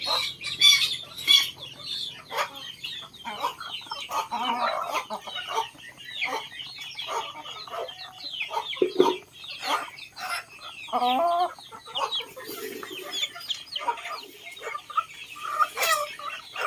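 Chickens cluck and squawk in busy, overlapping bursts, with occasional wing flaps and sharper calls, close by and without talk.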